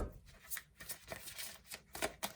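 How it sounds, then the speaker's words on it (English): A deck of tarot cards is shuffled close by in a soft, quick riffle of papery flutters and taps, with a faint voice in the background. "I just wanted to shuffle it up a little bit."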